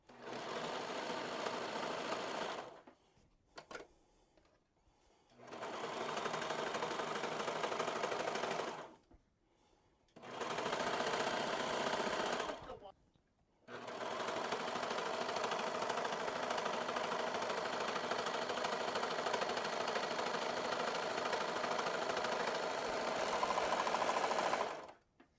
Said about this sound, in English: going to put it through the serger